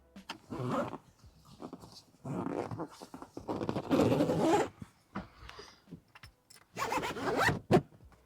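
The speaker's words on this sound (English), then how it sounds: "just zip up the rear window" Zipper being pulled along the rear window of a 1994 Porsche 968 Convertible's fabric roof, several close, scratchy bursts of zipping with short pauses between pulls, no talking.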